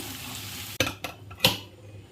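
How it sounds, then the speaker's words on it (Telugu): Chicken fry with coriander and green chilli is stirred in a pan, giving two sharp scraping strokes over a faint steady sizzle, with no talking. "బాగా కలుపుకొని దించుకుందామండి."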